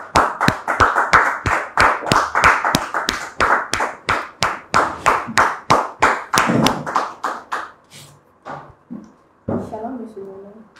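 Steady studio audience clapping on a television show set, fairly loud and rhythmic, that thins out and fades after several seconds into scattered noises and a few voices.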